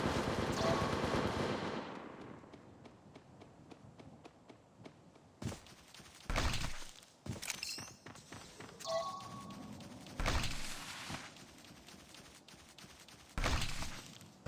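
Gunfire in the Apex Legends Mobile video game: a dense burst of rapid shots at the start, then sparse single cracks and several loud heavy bursts spaced apart, with faint game effects between.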